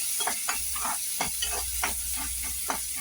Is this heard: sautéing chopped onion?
yes